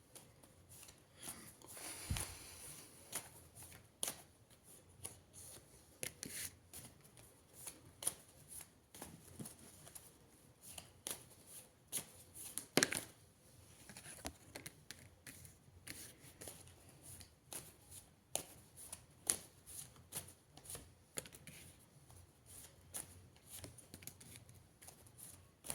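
Tarot deck shuffled by hand, with quiet, close riffling and tapping of cards in irregular bursts throughout and faint room noise between them.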